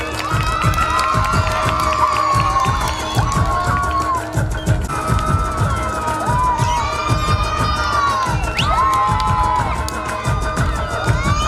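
A crowd at a Satyashodhak Samaj memorial gathering cheers and shouts, with children's voices rising above steady, loud, continuous noise that never drops to silence.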